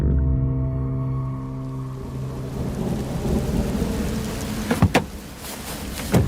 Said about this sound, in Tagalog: Masyadong malakas ang ulan.